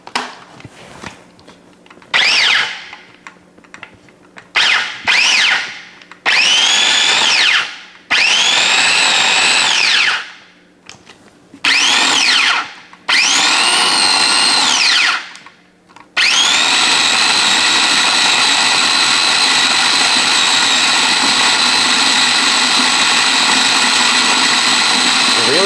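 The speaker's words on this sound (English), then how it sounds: "This is a tiny food processor." A tiny food processor whirring an onion into paste, running in several short pulses with whining motor pitch changes, then a long continuous loud run at close range.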